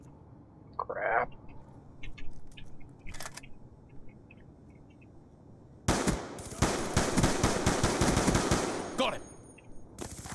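Rapid automatic gunfire from a Call of Duty Black Ops 2 team deathmatch match, with scattered shots early and then a loud sustained burst of fire, while a player speaks briefly over it.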